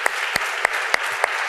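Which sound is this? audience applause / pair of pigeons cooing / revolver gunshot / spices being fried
audience applause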